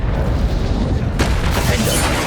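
Expelliarmus disarming spell cast in Hogwarts Legacy: a loud, broadband whooshing burst that swells midway through, sitting over a steady low rumble of game ambience.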